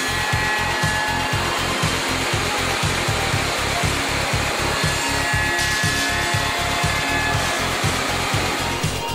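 An automatic timber-joinery machine cuts beams with a loud, steady motorised whine and a regular pulsing rhythm of cutting strokes throughout.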